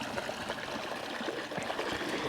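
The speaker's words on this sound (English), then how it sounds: "upstream, look at all this water, which Lassie is very helpfully demonstratin" Moorland stream on Dartmoor flowing steadily in summer heat, a continuous close rushing and trickling wash of water with no voices.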